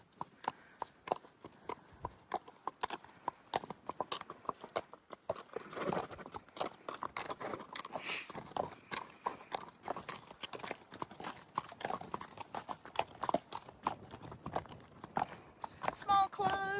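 Shire horse hooves clip-clopping in a steady, continuous rhythm at close range, with a person talking faintly over the hoofbeats.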